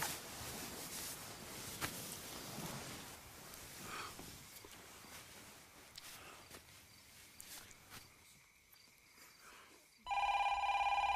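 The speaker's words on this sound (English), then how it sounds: "will somebody please answer the phone?" A home telephone starts ringing near the end, a loud, steady electronic trill that cuts in abruptly after quiet footsteps and room noise.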